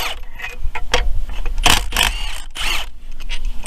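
A wrench breaks loose 15mm bolts on a 2001 Buick Regal 3800 during alternator removal, giving several sharp metallic clacks and scrapes, close and loud, with brief pauses between.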